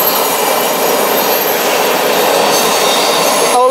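An empty BNSF military freight train rumbles past close by with a continuous loud roar and metallic wheel squeal, a sharper screech rising at the very end.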